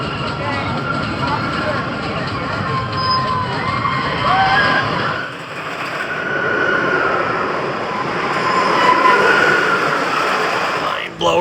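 Mind Blower roller coaster at Fun Spot Kissimmee: a continuous loud rumbling ride roar with rattling and metallic squeals, overlaid with riders' voices.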